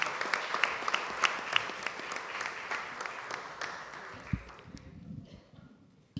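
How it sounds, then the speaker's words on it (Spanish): Audience applause in a legislature hall, dense clapping from a full room that thins out and fades to near silence over several seconds, with a few scattered claps at the end. "Así que aplaudámonos a todos"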